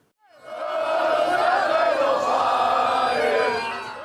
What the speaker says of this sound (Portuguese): a torcida brasileira deixou o estádio em clima de festa e empolgada